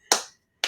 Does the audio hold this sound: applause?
yes